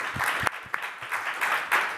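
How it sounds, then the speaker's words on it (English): Brief scattered audience applause at a 2013 RIT Innovation Hall of Fame panel discussion, a few distinct claps then a sparse, moderate patter lasting about two seconds with no talk. "audience, let's give a very warm applause and thank you to our innovators"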